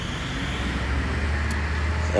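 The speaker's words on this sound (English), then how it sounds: "There's some cars going by." Cars pass on a road outside a porch, a steady low traffic rumble swelling slightly near the end, heard close beneath someone talking.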